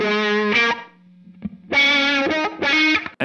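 Electric guitar played through a wah-wah pedal placed before a Benson Preamp distortion, giving sustained, harmonically rich distorted notes with sweeping tone, in three phrases separated by a brief quiet gap, loud and close.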